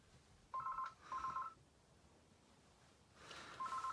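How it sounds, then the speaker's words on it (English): A telephone rings in short warbling bursts, three rings spaced apart, faint under a quiet room. "and there goes the phone again"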